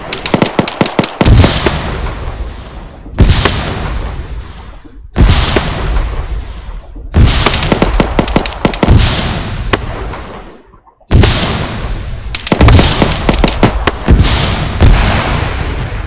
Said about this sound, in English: I'm firing at guys behind the fence to your right.